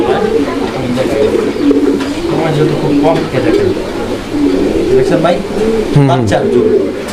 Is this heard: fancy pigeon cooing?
yes